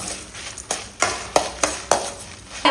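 Coriander seeds, urad dal and black pepper frying in a little oil, soft sizzling under a series of sharp spoon-against-pan stirring clicks and scrapes at a steady, uneven rhythm, close and fairly quiet.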